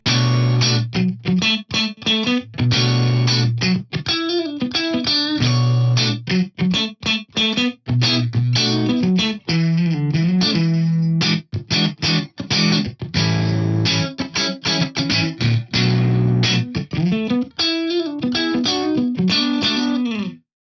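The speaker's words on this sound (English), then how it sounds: "It's basically just a very short early reflection style reverb." A distorted, choppy guitar line plays through a short early-reflection reverb from a Kurzweil Rumour unit that widens the sound, with quick staccato notes and brief gaps throughout.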